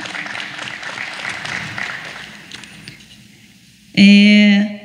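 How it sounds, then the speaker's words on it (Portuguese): A conference audience at an international coaches' forum claps in a steady wash of applause that gradually fades out. A loud, sustained musical tone then cuts in abruptly. "Uma salva de palmas."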